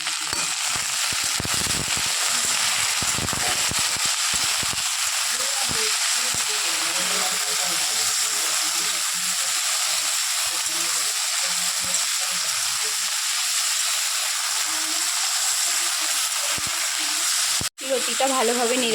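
Taro stolons (kochur loti) fry in a pan with salt and turmeric for a mustard-based dish, giving a steady, loud sizzle with occasional stirring and faint voice sounds early on.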